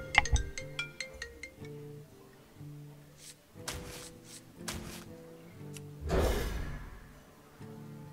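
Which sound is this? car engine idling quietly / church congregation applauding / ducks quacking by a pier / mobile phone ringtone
mobile phone ringtone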